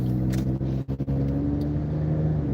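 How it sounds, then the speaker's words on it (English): Car engine rumbles steadily while accelerating through a turn, holding a loud, continuous drone with a brief dip partway through. "I accelerate through"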